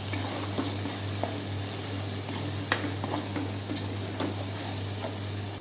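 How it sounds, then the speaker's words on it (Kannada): Masala spices fry with a steady sizzle in a pan, punctuated by occasional soft scrapes and taps of a spoon stirring, close and continuous with no talking. "ಸ್ವಲ್ಪ ಹಸಿ ವಾಸನೆ ಹೋಗೋವರೆಗೂ ಹುರ್ಕೊಳ್ಳೋಣ ನೀಟಾಗಿ"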